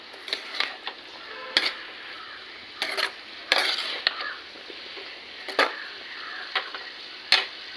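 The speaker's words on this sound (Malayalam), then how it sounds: "നമ്മൾ നന്നായിട്ടൊന്ന് ഇളക്കിയിട്ട് ഉപ്പ് എല്ലായിടത്തും ഒന്ന് പിടിപ്പിക്കാം കേട്ടോ" Salted food being stirred in a pan on a gas stove, with scattered scraping and clinking strikes of a spoon against the metal at an uneven rhythm and light frying underneath, heard close and with no talk.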